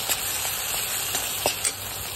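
Spice paste with turmeric frying in oil for drumstick bhaji, a soft steady sizzle with a few faint stirring taps, fairly quiet and close, no talking.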